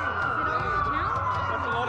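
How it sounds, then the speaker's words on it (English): Police sirens wailing continuously in the Watch Dogs video game during a city blackout, a steady rising-and-falling tone beneath game sound and ambient noise. "That's a lot of sirens for a blackout."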